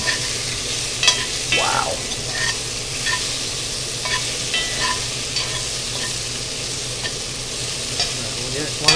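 Food sizzles and fries in bacon fat with a little light olive oil, a loud continuous crackle with occasional stirring scrapes and a brief exclamation from a voice.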